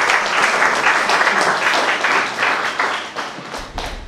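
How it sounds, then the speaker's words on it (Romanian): Close, loud clapping from an audience at a book launch in Panciu, with individual claps distinct and a few thumps as it tapers off near the end. "Și o aplaudăm."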